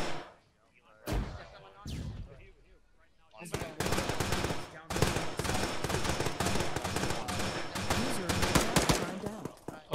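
Gunfire in a military video game mission starts as a few sharp, isolated shots, then becomes near-continuous rapid automatic fire that stays loud and dense to the end.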